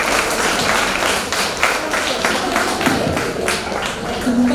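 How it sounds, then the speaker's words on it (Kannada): Audience clapping at a women's association annual day event, a dense run of hand claps filling the room, with voices faintly mixed in. "ಮತ್ತೊಮ್ಮೆ ಜೋರಾಗಿ ಒಂದ್ಸಲ ಚಪ್ಪಾಳೆ"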